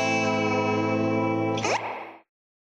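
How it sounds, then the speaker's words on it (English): An electric guitar plays through a Fender Super Sonic amp with a long, tube-driven spring reverb pan. A sustained chord rings, is cut off abruptly with a splashy spring crash, and the tail decays quickly into silence. "That's a full long spring reverb pan and tube driven, as with the old blackface amps."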